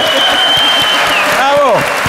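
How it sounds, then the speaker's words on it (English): Brief burst of audience applause at a panel discussion, loud clapping from a crowd with voices calling out over it. "let's give him a big applause"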